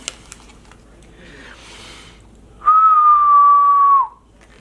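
A single clear, sustained whistled note, slightly falling in pitch, rising over quiet background rustling and lasting about a second and a half.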